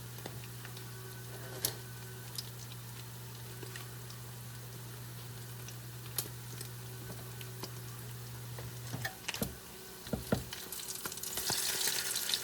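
Salmon patties fry in a pan with a steady, moderate sizzle and occasional crackles and light spatula clicks, growing louder and busier toward the end; no one speaks.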